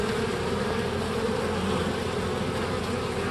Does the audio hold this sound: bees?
yes